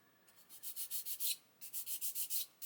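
A plastic part from an Airfix 1/24 Spitfire Mk.IXc model kit is sanded by hand in quick rhythmic strokes, two bursts of about six rasping rubs each, close and fairly quiet.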